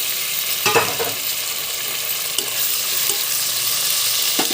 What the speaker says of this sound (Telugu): ఆనియన్స్ని ఇలా గోల్డెన్ కలర్ వచ్చే వరకు బాగా ఫ్రై చేయండి ఇందులో కట్ చేసుకున్న టమాటాలను కూడా వేసుకోండి